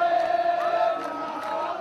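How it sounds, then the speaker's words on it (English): A crowd of protesters celebrating at Pearl roundabout, a dense roar of many voices with shouts and cheers, loud and sustained throughout. "the crowd began celebrating"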